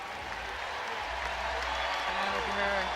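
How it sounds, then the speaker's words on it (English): Crowd at a women's college basketball game, South Carolina against South Dakota State, breaks into sustained applause and cheering that fills the arena, a dense steady wash of clapping with a commentator's voice talking over it. "already getting a standing ovation and a round of applause from the crowd."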